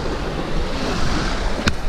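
Strong wind roars across the microphone by the sea, a constant rushing noise with surf underneath and a short sharp gust near the end.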